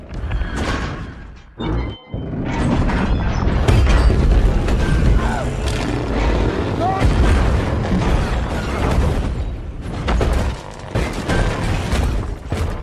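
An oil tanker truck explodes in a film with a deep booming rumble and crackling debris, sustained and loud, fading into continued rumbling and clatter.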